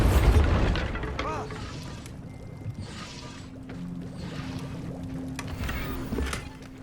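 A Bombarda explosion spell goes off in Hogwarts Legacy, a deep booming burst at the start that fades into a low rumble and ambient game sounds, with a voice speaking over it.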